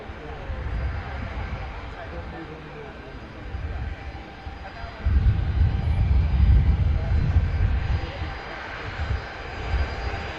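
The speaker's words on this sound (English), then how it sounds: "We do have a Finnair on approach as well." Finnair airliner on approach at Manchester Airport, a steady broad engine roar that swells midway, heard at a distance with a voice talking over it.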